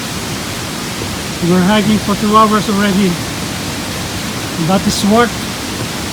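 A waterfall on the Big Beehive-Lake Agnes hike pours in a loud, unbroken broadband hiss that fills the whole scene, with a person briefly speaking over the rushing water.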